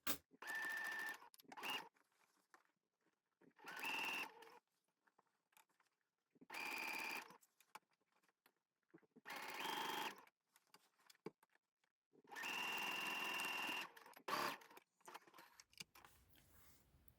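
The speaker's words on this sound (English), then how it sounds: "you need to sew it really carefully, just going slowly, working the fabric around under the machine foot" A sewing machine stitching a jacket lining, running slowly in several separate mechanical bursts of about one to one and a half seconds each, with quiet pauses between them while the fabric is guided under the presser foot.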